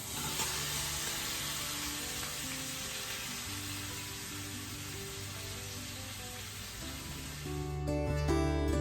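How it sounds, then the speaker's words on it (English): Basil and oregano sauteing in a skillet make a continuous, dense sizzle that holds steady and swells slightly near the end, with no talk. "while that is sauteing in the skillet"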